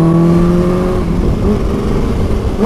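A tuned 250 hp Kawasaki H2 motorcycle with a big Akrapovic exhaust can revs loudly and close, its engine note rising and falling in tone, with no talk.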